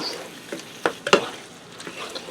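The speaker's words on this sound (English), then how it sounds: "I'm just going to give that a stir to combine it" Spoon stirring drained diced green chilies into a taco tater tot casserole mixture, a few soft scrapes and clacks over a quiet background sizzle.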